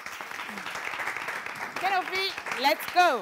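Audience applause at a live show with an entertainer on stage, a steady wash of clapping under a person speaking loudly over it and cheering toward the end.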